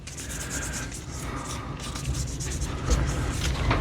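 Grime is scrubbed off an old, rusty Snail Brand spanner with a steady, close-up rasping rub that runs the whole time and gets slightly louder toward the end.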